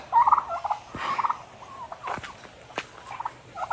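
A tom turkey gobbles in short bursts near a dog, the rapid warbling calls repeating several times over a quiet yard.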